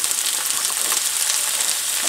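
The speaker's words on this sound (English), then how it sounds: "I can see that the olive oil is starting to sizzle." Steady, bright sizzling of olive oil in a hot pan, loud and close, a continuous hiss with faint crackles throughout.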